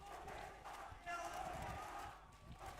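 An esports crowd at a Valorant PACIFIC Ascension match roars and cheers in a swelling, sustained wave, heard a little distant beneath a caster's excited commentary.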